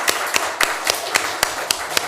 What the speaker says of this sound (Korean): 우리 감사합니다라고 박수하겠습니다